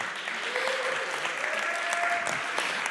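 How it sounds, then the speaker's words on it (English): A conference audience at re:publica 2014 applauds themselves in a thick, continuous roar of clapping, with a few voices calling out and a faint whistle above the hands. "Give yourselves a big round of applause."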